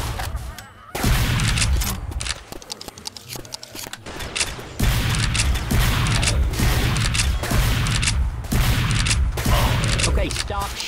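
Rapid bursts of gunfire from the Left 4 Dead 2 co-op zombie shooter crackle loudly and almost without pause, with dense volleys and a brief lull, while a player's voice talks over the shooting.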